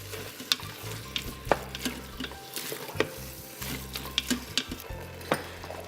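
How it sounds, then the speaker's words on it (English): About a pound of ground beef fries in a pan while a wooden spoon breaks it apart, giving steady close sizzling with repeated scraping and tapping strokes and no voices. "Using the wooden spoon, break the ground beef without any lumps"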